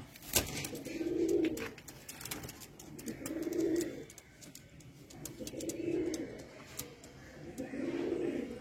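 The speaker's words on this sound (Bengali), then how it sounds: "এত সুন্দর নর পায়রা বন্ধুরা, কালশিরা নর কেউ দেবে না 3000 টাকায়" Kalshira pigeons, including a male, coo in a slow repeating rhythm, four low throaty bursts about two seconds apart, close by, with light background noise between calls.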